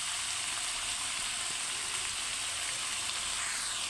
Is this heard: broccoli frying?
yes